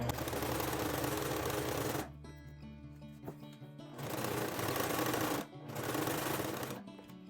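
A sewing machine stitching a dress seam, running in rapid, steady mechanical bursts. It stops twice for short pauses with faint handling noises, then starts up again, all close and clear.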